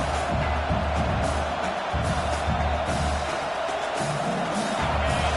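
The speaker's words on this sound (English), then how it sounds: "This crowd trying to make life miserable for this offense" Steady roar of a packed stadium crowd at a South Carolina college football rivalry game, dense and continuous with faint cheering swells and no clear voices.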